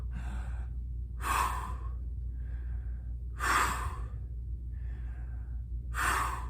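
A voice imitates heavy exercise breathing: three loud, breathy gasping exhalations spaced about two and a half seconds apart, with softer inhalations between them, close up and with no speech.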